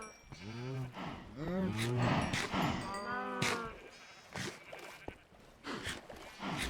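Minecraft farm animals, cows, sheep and pigs, crowded in a video game pen, making overlapping moos and bleats one after another, clear and close, with a few soft grunts in between.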